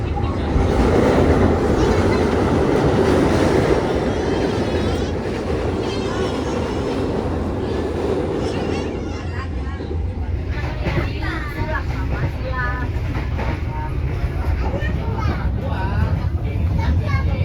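A steady rumble of the Bengawan economy passenger train rolling on rails from Jakarta toward Solo, with rhythmic clatter, while children's voices and chatter inside the carriage carry over it throughout.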